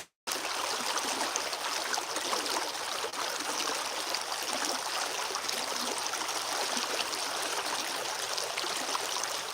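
Flood water rushes steadily through a creek in a broad, continuous hiss and gurgle, close and loud, with no voices over it.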